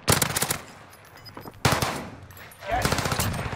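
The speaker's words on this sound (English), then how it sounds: "Those bastards are shooting at me." Rapid automatic gunfire in the battle-royale shooter Warzone on Rebirth Island, loud bursts at the start and again around the midpoint, followed by a sustained rattling volley near the end.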